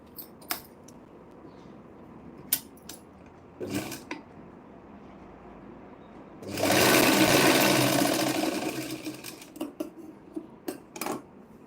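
An electric sewing machine runs a burst of stitching on blouse tucks, a fast rattling whir lasting about two seconds, close by, framed by scattered clicks and handling taps before and after.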